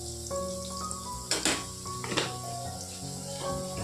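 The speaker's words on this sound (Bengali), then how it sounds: "যেহেতু কাঁচা আলু ভালো করে ভাজতে হবে" Raw potatoes fry in a pan, a low steady sizzle with a couple of sharp scraping stirs, no voices.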